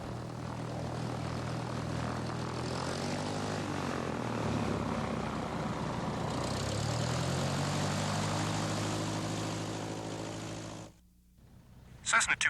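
A Cessna propeller aircraft taxiing toward the runway from a general aviation ramp, with a loud, steady engine drone and prop hum that cuts out abruptly near the end, followed by a few brief knocks.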